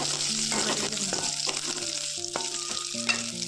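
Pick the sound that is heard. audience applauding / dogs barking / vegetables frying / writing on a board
vegetables frying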